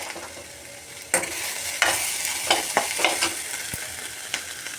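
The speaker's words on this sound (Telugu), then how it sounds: "ఇప్పుడు ఈ పండిన దొండకాయలు ఉన్నాయి కదా, ఇవి ఆయిల్లో వేసుకున్నాం. బాగా వేగేద్దాము." Ripe ivy gourds fry in hot oil with a steady broadband sizzle, punctuated by several sharp stirring scrapes and clacks of a utensil against the pan, close and fairly loud with no talking.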